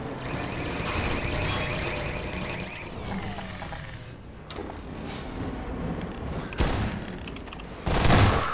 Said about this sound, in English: Stop shooting things!